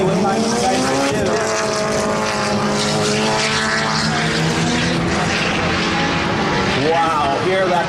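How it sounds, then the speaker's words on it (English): A race car engine screams at high revs as it laps the Mosport circuit, loud and sustained with a rising and falling whine, while a commentator talks over it. "Wow, hear that car scream."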